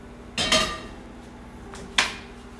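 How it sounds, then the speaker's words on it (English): A heavy cast iron Dutch oven and its lid are handled in a kitchen, giving two sharp metallic clanks about one and a half seconds apart, the first a longer ringing knock, the second a single short hit. "Here's the cast iron Dutch oven"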